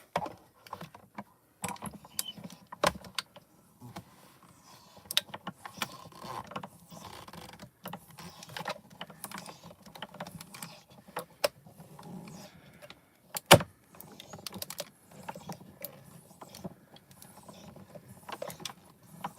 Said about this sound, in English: run it through your die cutting machine